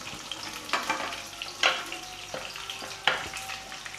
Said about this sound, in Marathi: फ्राय करून घेणार आहोत अगदी मऊ होईपर्यंत